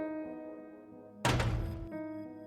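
A door bursting open in a narrated ghost story, heard as a sudden loud thudding burst with a rushing, wind-like wash that lasts about half a second and then drops away over a steady background tone.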